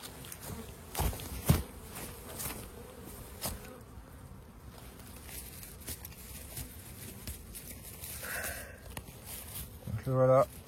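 A European hornet drones around honeybees at the hive, a continuous buzzing under scattered taps and handling noises, rising into a louder close burst at the end.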